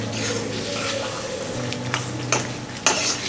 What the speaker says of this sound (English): Now we are going to add the arvi to our gravy and we will simmer for few minutes